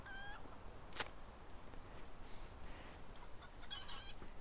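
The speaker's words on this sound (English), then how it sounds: "hold 6 screaming chickens all at the same time" Video-game chickens squawk and cluck in a few brief, faint bursts over a soft ambient background, with no one talking.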